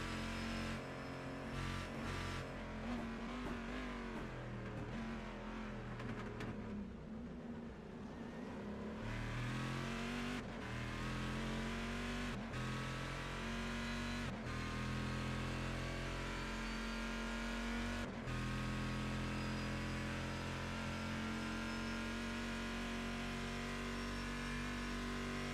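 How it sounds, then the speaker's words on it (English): A B8 race car engine revs and drones steadily in a sim racing game, a continuous loud mechanical tone with shifting pitch and a few sharp gear-change breaks, no voices over it. "I just want to hear this B8 motor."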